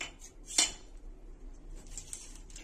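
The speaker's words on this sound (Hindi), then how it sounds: "इसके बाद हम इसमें चम्मच लगाएंगे।" Metal spoons are pushed into homemade orange chocolate ice cream cups with one bright clink, then fainter scattered taps and scrapes.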